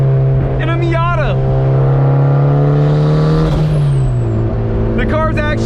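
A built 400 HP turbo Mazda Miata roars under hard acceleration, its engine note climbing steadily as it breaks traction, loud and close from inside the car, with brief excited voices over it at start and end.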